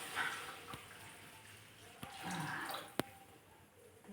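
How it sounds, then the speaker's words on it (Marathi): Lukewarm water poured into a spicy egg curry whose oil has begun to separate, giving soft wet drips and a brief splashing pour with a couple of sharp clinks, fairly quiet and close. "आता आपण ह्याच्यात कोमट कोमट केलेलं पाणी टाक"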